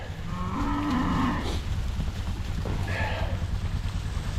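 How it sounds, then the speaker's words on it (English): Cattle on a drive to fresh grass give a couple of loud, nearby moos in the first seconds, with wind rumbling steadily underneath. "Here comes the cattle drive."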